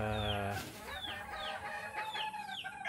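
A rooster crows loudly up close in a poultry pen, then hens cluck and squawk in short, repeated calls.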